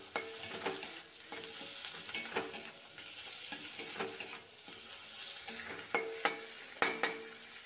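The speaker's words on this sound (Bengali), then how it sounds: "আর অর্ধেকটা টমেটো কুচি দিলাম, দিয়ে আবারও একটু কষিয়ে নেব" Chopped tomato is sautéed in a pan for a Bengali chorchori, with a quiet sizzle under a steady rhythm of spatula strokes scraping and tapping the pan every half second or so.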